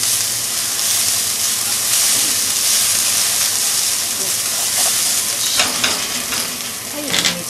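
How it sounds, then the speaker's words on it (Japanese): Onions stir-fry in an iron wok with a loud, close sizzle and hiss. Scraping and clanking strokes grow busier toward the end. "玉ねぎと一緒に炒めるといいと思います。"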